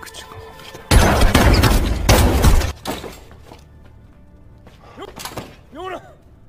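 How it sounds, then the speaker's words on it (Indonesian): A loud burst of rapid gunfire with shattering impacts in a film scene, then quieter scattered noise and faint voices as it fades. "Dae-ho melepaskan tembakannya ke arah Kolonel Moon dan Kolonel Moon pun tewas."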